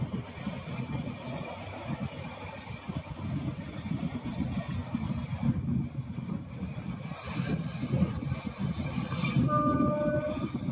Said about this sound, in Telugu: విజయవాడకి గుడివాడకి మయాన్ అయితే కనుక ట్రైన్ అయితే ఆపేశాడు ప్రెజెంట్. స్లోగా వెళ్తున్నాడు.